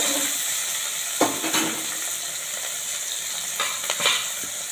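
Vegetables lightly frying in a pan for a bread pocket snack, a constant close sizzle broken by a few stirring scrapes and utensil knocks.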